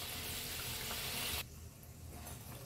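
Rava karanji pastries frying in oil over a low flame, a steady faint sizzle that abruptly drops to a quieter, duller bubbling halfway through.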